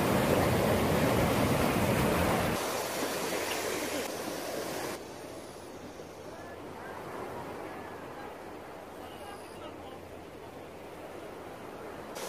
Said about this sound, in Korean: 파도가 점점 거세지네요.